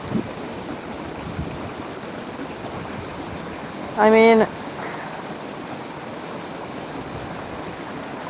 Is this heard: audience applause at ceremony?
no